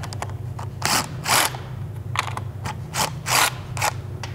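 A 10 mm socket ratchet clicks in quick bursts while removing two nuts on a Ford Bronco roof, with several separate sharp ratcheting runs close up and no talking.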